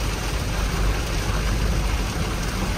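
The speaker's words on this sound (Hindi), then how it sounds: "बारिश और तेज होगी, बहुत तेज होगी बारिश।" Heavy rain pounding down while driving at night on a mountain road, a dense, constant hiss of downpour on the vehicle with a low rumbling undertone, loud and unbroken.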